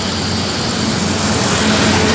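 A Batu Palas intercity bus on the Sumatran road to Pekanbaru rolls past behind a truck, a loud close engine drone and tyre roar holding steady, with no talk.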